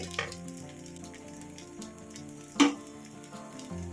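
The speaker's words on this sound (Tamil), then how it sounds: "தோசைக்கல்ல எங்கேயும் வர மாதிரி ஊற்றுங்க" Tapioca adai batter cooks on a hot dosa griddle with a faint, soft sizzle, broken once by a brief sharp clink, while quiet music plays underneath.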